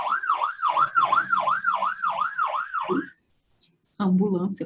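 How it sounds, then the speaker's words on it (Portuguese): An ambulance siren passes nearby with a loud, rapid rising-and-falling wail repeated about eight times. It cuts off abruptly, and after a short silence a person starts speaking. "A ambulância passou."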